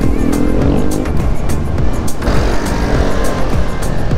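Vespa scooter exhausts rumble and rasp on a group breakfast ride, loud and close, with engine notes rising and falling as the scooters ride along together.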